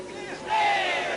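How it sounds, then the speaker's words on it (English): A crowd at a kickboxing fight roars and cheers, a brief swelling wall of voices that gets louder halfway through and stays loud. "The crowd roaring with eagerness as Humphrey lands these side knees."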